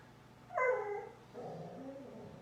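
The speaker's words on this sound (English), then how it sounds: "the cat's outside, so the dog is growling" A dog indoors makes a short whining, yelping vocalisation followed by a lower grumbling growl, faint and close, apparently reacting to a cat outside.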